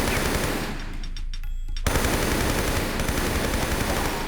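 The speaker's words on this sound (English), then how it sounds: "the MP5 makes quick work of them as well" MP5 submachine gun firing in Tomb Raider 3, loud continuous rapid bursts with a short near-silent gap in the middle before the automatic fire resumes.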